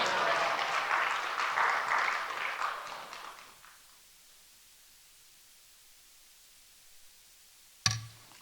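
A church congregation claps to welcome the pastor: a dense wash of applause fades out after a few seconds, then near silence until a single sharp knock near the end.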